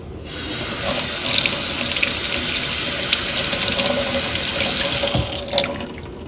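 Water runs steadily from a tap into a sink while a small brush is rinsed under the stream, a close, continuous splashing hiss with slight changes as the brush moves, and no talking.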